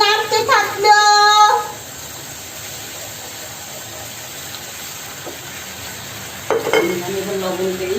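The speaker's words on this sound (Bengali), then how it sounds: "এই অর্ধেক চামচ হলুদের গুঁড়া দিল, দিয়ে নাড়তে থাকলো" Half a spoon of turmeric powder stirred into a frying fish curry with potatoes and yardlong beans, heard as a continuous low sizzle with spoon scrapes, bracketed by brief tonal kitchen noises at the start and end.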